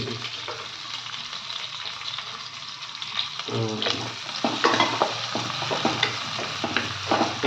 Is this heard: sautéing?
yes